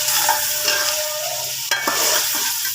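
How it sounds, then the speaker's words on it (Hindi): Chicken and onion fry with cumin and salt in a pan, loud close sizzling under brisk stirring, with one sharp clatter midway. "चिकन और प्याज को दोनों को अच्छे तरीके से हमने लाइट ब्राउन होने तक भून लेना है।"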